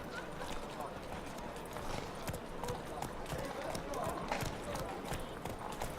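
Roach the horse runs in The Witcher 3, a busy patter of hoofbeats mixed under someone talking over the game sounds.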